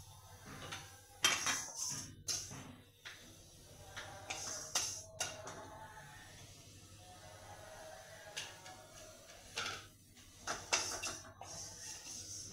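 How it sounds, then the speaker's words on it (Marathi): Coriander seeds dry-roasting in a pan for a spicy mutton curry: quiet, scattered clinks and scrapes of a spatula against metal, with intermittent rattling bursts and no voices. "धणे आता भाजून घेऊया आपण जरा."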